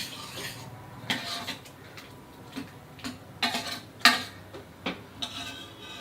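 A spoon stirs mashed pumpkin seasoned with amchur (dry mango powder) in a pan, producing scattered light clicks and taps against the metal over a quiet background.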